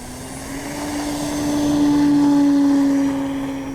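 An E-flite CZ T-28 RC model airplane flies past, its motor a steady buzzing drone that swells louder toward the middle, then eases slightly as it moves on. No one talks.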